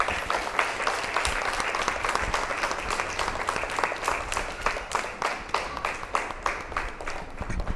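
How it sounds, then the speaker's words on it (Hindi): An audience of women at a fancy dress competition event claps loudly together, a dense, steady roar of applause that holds at full strength throughout. "आप सभी अपने लिए एक ज़ोरदार ताली बजाइए।"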